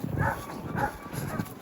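Sled dogs in snowy Lapland, Sweden, bark and yelp in short overlapping bursts before a dog-sledding run, heard at moderate distance over outdoor ambience with some faint voices.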